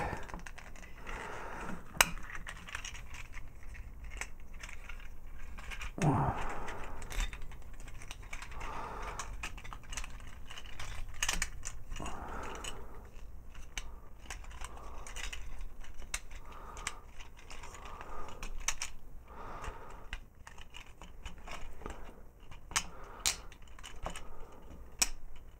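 Hasbro or Takara Transformers Stunticon toy being twisted into robot mode: faint, scattered plastic clicks and small ratcheting snaps of jointed parts, close up and quiet over a steady low background hiss.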